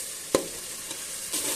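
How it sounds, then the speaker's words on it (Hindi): Tomato masala roasting in a pan sizzles in a steady close hiss, punctuated by one sharp knock of a spoon and later soft scraping as it is stirred. "अब यहाँ हमारे टमाटर और मसाला जो है वो अच्छे तरीके से भून चुका है।"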